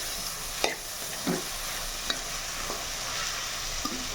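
Cabbage and chana dal vegetable mix fries in a pan with a steady broad sizzle, broken by a few sharp utensil scrapes and knocks as it is stirred; no talking.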